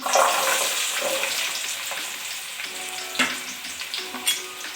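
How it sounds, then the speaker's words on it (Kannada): Onions frying in hot oil in a sambar pot for a country-style chicken curry, a loud, dense sizzle with a few stirring scrapes, close and continuous, no talk. "ಎಣ್ಣೆ ಹಾಕೊಳ್ಳೋಣ ಈರುಳ್ಳಿ ಹಾಕ್ತಾ ಇದ್ದೀನಿ"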